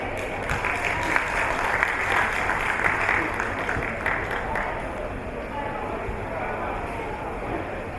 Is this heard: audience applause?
yes